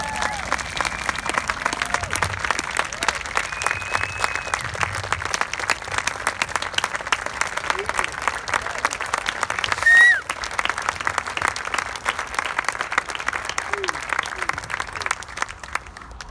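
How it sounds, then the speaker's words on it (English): Stadium crowd applauding at a tennis event honoring the 1968 US Open win, dense steady clapping and cheering from a large audience heard from a distance, lasting throughout with a brief louder swell near the middle. "Let's hear it for Johnnie Ashe, everybody"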